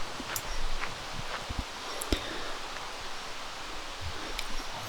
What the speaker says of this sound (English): It's quite windy, even at the tee pad here